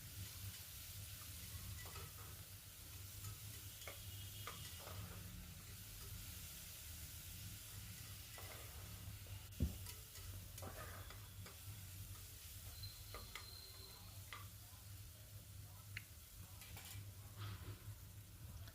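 Fenugreek leaves fry in a pan with a faint, steady sizzle that runs throughout, broken by a few soft clinks of a utensil.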